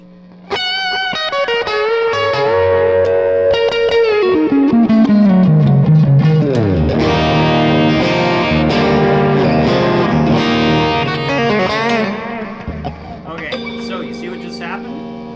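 Electric guitar from a Fender J. Mascis signature Telecaster through a Morgan AC20 amp, playing a loud, continuous run of chords and single notes with a bright, ringing, slightly driven tone that fades somewhat near the end.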